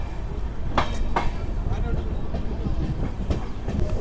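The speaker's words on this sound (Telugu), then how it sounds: "మన ట్రైన్ వచ్చేసి పిగిలేరు నుంచి అయితే బయలుదేరిపోయింది" A Tirupati–Secunderabad superfast express on LHB coaches runs steadily after leaving Pigileru, with a constant low rumble and sharp clacks from the wheels over rail joints, heard from inside the moving train.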